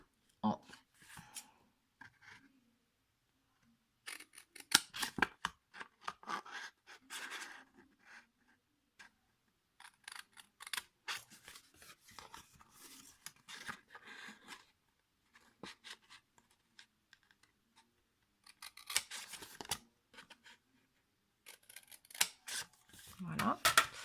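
Scissors snip through paper card for an envelope box kit in short clustered bursts of crisp cuts separated by quiet pauses, close and fairly soft throughout.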